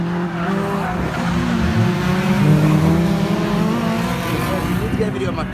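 A Mini on a race track during a track day, engine droning and tires squealing continuously close by, while people talk over the car noise.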